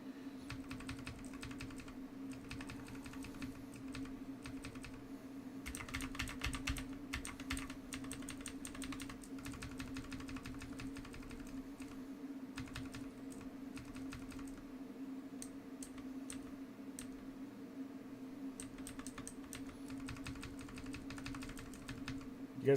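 Dense bursts of computer keyboard typing, clicks and clatter in quick runs with short pauses, close and fairly clear over a steady low electrical hum.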